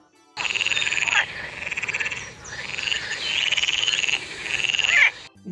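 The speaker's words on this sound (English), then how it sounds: "F for frog." A frog croaks in rapid, rattling bursts, several pulsed calls in a row, loud and close, with brief pauses between them.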